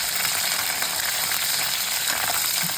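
Green chillies fry in a pan for anchovy (nethili) kuzhambu, giving a continuous hissing sizzle broken by light scraping clicks as they are stirred.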